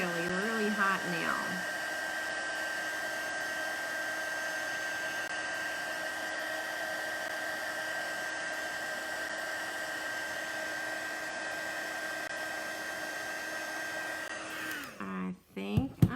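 Embossing heat tool blowing hot air over stamped cardstock in a crafting session, a steady loud whirring hiss with a constant tone that runs without a break, then shuts off near the end with brief handling clatter.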